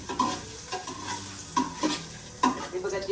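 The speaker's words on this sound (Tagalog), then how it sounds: "So siya ay igigisa mo para maging malasa." Ingredients sizzle and fry in a pan while a utensil stirs and scrapes against it in repeated strokes, sautéed as the base for salmon belly sinigang; the sizzling is steady and close, with no talking.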